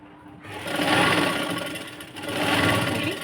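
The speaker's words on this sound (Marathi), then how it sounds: "आता हिला पूर्ण हिच्यावरती टीप मारून घ्यायचे" A sewing machine stitches a sleeveless princess-cut blouse, two fast whirring runs of needle chatter separated by a short slowdown, close and loud with no talking.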